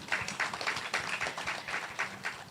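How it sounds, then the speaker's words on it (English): A summit audience gives a quiet round of applause. The clapping is faint and patchy, with soft rhythmic bursts over a few seconds and no talking. "A round of applause for her, please."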